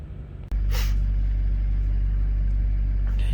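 A warmed-up diesel pickup truck engine idles close by on a 42-degree day, a steady loud low rumble that starts abruptly after a brief click and holds evenly, with a short hiss near the start.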